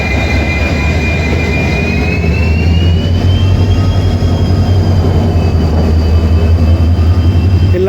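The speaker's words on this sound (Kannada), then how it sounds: "ಇಂಜಿನ್ನು ಬ್ಯಾಕ್ ಸೈಡಿಂದ ಹೋಗ್ತಾ ಇದೆ, ಇದು ಉಲ್ಟಾ ಹೋಗ್ತಾ ಇದೆ ಇದು." A train running with the engine pushing from the rear, giving a loud, continuous rumble of wheels on rails and a drawn-out high squeal throughout.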